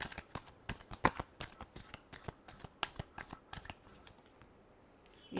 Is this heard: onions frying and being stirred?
no